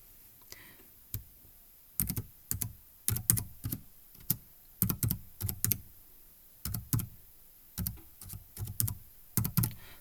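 Fingers type on a computer keyboard in quick bursts of clicky keystrokes separated by short pauses, close and distinct with no speech.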